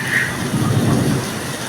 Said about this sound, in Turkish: Fena yağmur yağıyor.